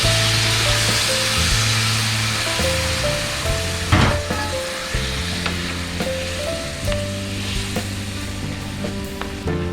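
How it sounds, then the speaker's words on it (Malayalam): Cooked beef and its cooking water go into a pan of hot masala for Kerala-style tapioca (kappa) biryani, with a loud, continuous sizzle and frying crackle, a sharp splash midway, and steady stirring scrapes throughout. "നമുക്കിതിലേക്ക് വേവിച്ച് വെച്ചിരിക്കുന്ന ബീഫ് വെള്ളത്തോടു കൂടി തന്നെ ചേർത്ത് കൊടുക്കാം."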